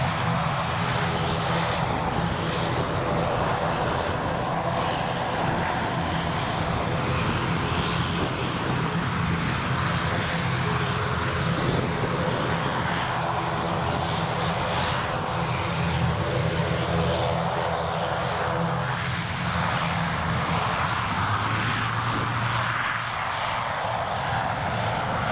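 Aer Lingus airliner landing at Newcastle International Airport, a continuous engine drone and rumble held at steady loudness throughout, with a faint whine layered over a dense background of broadband noise.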